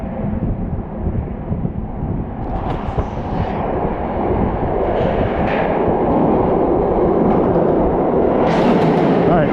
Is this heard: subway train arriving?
yes